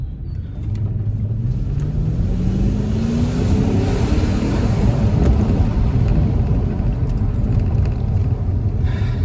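A Mercedes-Benz CL500 grand tourer's engine rumbles steadily while driving with the windows down, its deep drone rising in pitch as the car accelerates, loud and continuous throughout.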